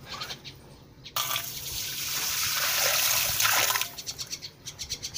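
Clean water pours onto rice in a pot, a rising hiss of running liquid lasting a few seconds, framed by quieter dripping and faint rhythmic background sounds.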